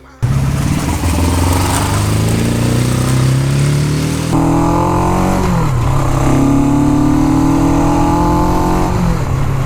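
A small motorcycle bought cheaply at auction revs loudly up close, its engine pitch climbing through several gear-like rising sweeps, dipping, then rising again, with a voice briefly audible under it.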